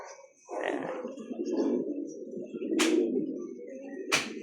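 Low, throaty cooing from racing pigeons rolls on steadily at close range, with a couple of sharp clicks or taps breaking in.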